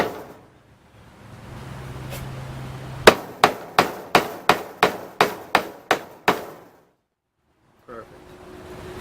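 Small brad nails are hammered into plywood in a quick, even series of about ten sharp close blows, preceded by a low hum and brief scraping, then followed by silence and a faint clunk.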